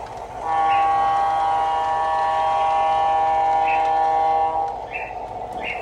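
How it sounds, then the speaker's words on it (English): A Lionel model train's horn, powered by a CW-80 transformer, sounds in a long steady multi-tone blast, loud and close, with faint mechanical clicks near the end. "You hear the sound of the engine like it's turning on"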